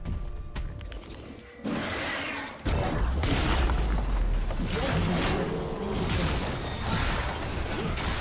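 A turret is destroyed in a League of Legends match, heard as a dense mix of booming impacts, whooshes and crashing game effects, loud and continuous after a brief quieter start.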